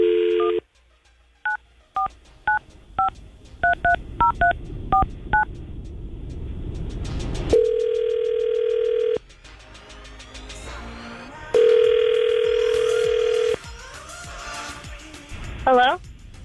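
Touch-tone telephone keys beep in a quick irregular run of DTMF pairs, then a phone line rings in two long steady tones with a pause between, ending in a brief click as a radio station call is placed.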